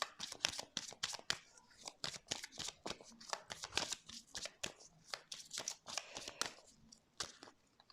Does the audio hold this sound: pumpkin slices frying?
no